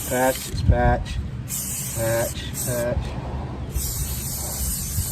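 Primer from a spray can hisses onto a rusty steel vehicle wheel in short, close bursts, with a few quiet rattles and clicks between them, over a low background rumble.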